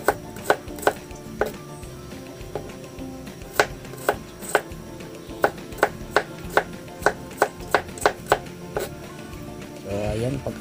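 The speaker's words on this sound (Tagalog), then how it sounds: "Unahin ko yung ating bawang. Kailangan pahaba yung paghiwa ng bawang." A knife slices garlic lengthwise on a cutting board, giving a run of sharp, close, evenly spaced chops that quickens toward the end, followed by a brief rustle.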